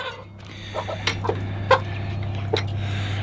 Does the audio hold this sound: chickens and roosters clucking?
yes